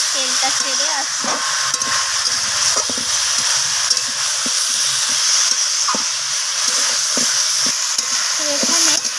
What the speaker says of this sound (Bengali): সবজি থেকে কাঁচা গন্ধটা চলে যাওয়া পর্যন্ত, আর মশলারও কাঁচা গন্ধটা চলে যাওয়া পর্যন্ত সব কিছুকে আমি কষিয়ে নেব